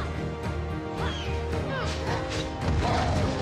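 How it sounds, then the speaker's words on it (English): A video game boss smashes the ground in a loud, continuous stretch of crashing impacts and thuds. The gameplay is dense and busy, with heavy booms building toward the end. "Smashing the ground is also one of his favorite attacks."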